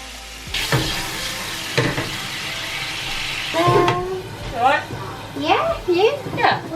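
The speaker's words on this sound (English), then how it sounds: "I started with frying them off before adding some soy sauce to steam them for another few minutes" Gyozas crackle and sizzle in a hot oil pan, then hiss as soy sauce hits it for steaming, a steady frying texture with a sudden surge, under a person talking throughout.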